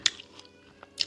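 Biting into a muscat grape close up: a few soft, crisp bite and chewing clicks spread over about a second, quiet and isolated with no talking.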